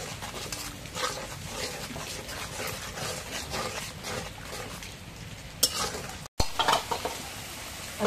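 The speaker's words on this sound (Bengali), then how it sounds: "এখন মশলাটা কষানি হচ্ছে" Spice masala stirred and frying in a pan, a soft continuous sizzle with scraping strokes and a few louder clatters near the end, heard close and fairly quiet.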